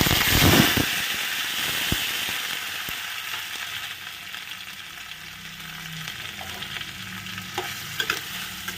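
Bottle gourd leaves fry in oil with black cumin and are stirred, giving a steady close sizzle with scraping spatula strokes and a few sharp clicks. The sound is loudest at the start.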